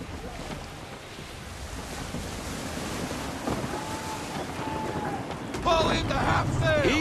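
Wind and ocean surf roll steadily around a sailing ship in Assassin's Creed 3, with a gusty wash building toward the end and faint creaks and speech-like sounds under it.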